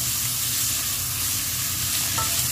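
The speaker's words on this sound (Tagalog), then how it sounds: "Next yung ating liempo. Igigisa lang natin to." Pork belly (liempo) sautéing in a pan with garlic and onion, a dense, steady sizzle and crackle with a low hum underneath and a faint utensil touch near the end.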